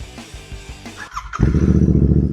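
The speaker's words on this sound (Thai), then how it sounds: "เดี๋ยวฟังเสียงเครื่องเลย" A 2019 Royal Enfield Interceptor 650 motorcycle with a custom exhaust cranks, catches and settles into a deep, throaty rumbling idle close by.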